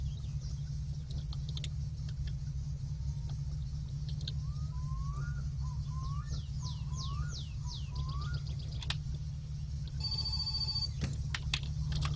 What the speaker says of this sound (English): Getting a phone call here, guys. Let's answer that.